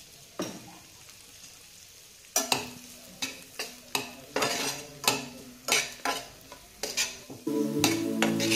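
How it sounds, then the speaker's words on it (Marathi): Finely chopped cabbage stirred in a pan, a series of sharp, close spatula scrapes and knocks against the metal in an uneven rhythm, with a soft sizzle building toward the end and no talking. "बारीक चिरलेला कोबी घालून त्याला चांगलं हलवून घ्यायचं"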